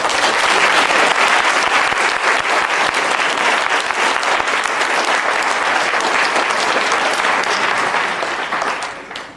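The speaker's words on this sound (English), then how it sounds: "Give Marilyn a big applause." A church congregation at a Lutheran hundredth-anniversary service breaks into loud, sustained applause, a thick continuous roar of many hands that holds steady for several seconds before fading at the end.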